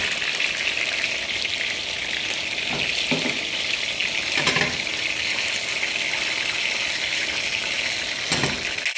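Chicken pieces frying in oil in a wok, a loud, continuous close sizzle with a few brief bursts of spatter, no voices.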